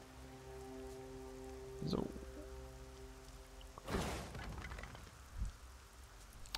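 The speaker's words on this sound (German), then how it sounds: "Und es regnet." Rain pattering on the fields in the video game Diablo 3, a soft steady hiss under brief speech, with a few louder thumps and gameplay sounds breaking through.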